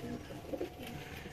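Old-breed high-class pigeons coo low and soft in a loft setup, a couple of faint rolling coos against a quiet background hum.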